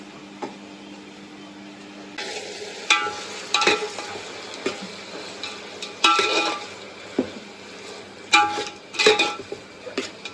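Tomatoes frying in oil in a pan for a traditional biryani, a steady close sizzle broken by repeated scraping stirs and clinks of a utensil against the pot.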